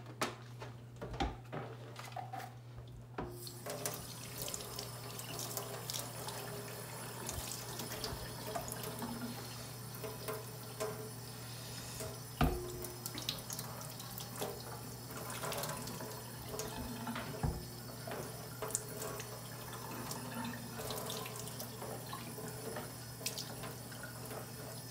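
Tap water runs steadily over a disassembled Krause and Becker paint spray gun from Harbor Freight, a continuous rinsing hiss throughout with small clatters as the parts are handled close by.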